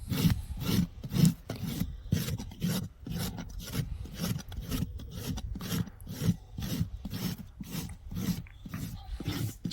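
A farrier rasps a draft horse's hoof with rapid, regular rough strokes, about two per second, close and steady with no talk.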